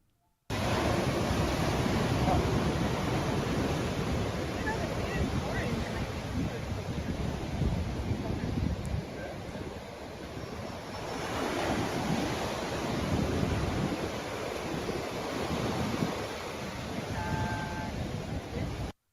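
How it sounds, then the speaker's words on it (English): Ocean surf rolls steadily onto a beach in a continuous loud wash, with gusts of wind buffeting the microphone and a brief dip in intensity midway. "there's something about the sound of the ocean that I absolutely adore"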